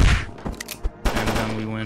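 Rapid video game gunshots are fired in quick succession in Among Us Arena, a short burst of repeated shooting blasts that are close and punchy, with some game noise around them.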